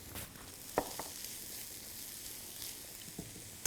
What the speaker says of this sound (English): I'll add my onions and saute them until they're a little bit translucent